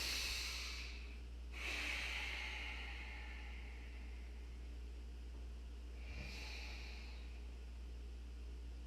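Slow, deep breathing during a yoga hip stretch: two long, airy exhalations several seconds apart, close and soft over a steady low hum, with no talk.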